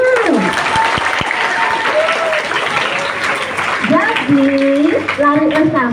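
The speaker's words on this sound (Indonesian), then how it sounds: "Lomba lari, kasih tepuk tangan." Loud, dense clapping from a crowd fills the whole stretch, with children's voices calling out over it, in a classroom.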